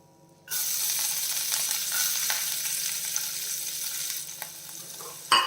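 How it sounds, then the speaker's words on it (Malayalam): Chopped ginger and garlic hit a hot pan with a sudden loud sizzle that stays strong and steady, easing slightly before a brief clatter near the end. "ഇതിൽ നമ്മൾ കട്ട് ചെയ്ത് വെച്ചിരിക്കുന്ന ഇഞ്ചി വെളുത്തുള്ളിയൊക്കെ ചേർത്ത് കൊടുക്കാം"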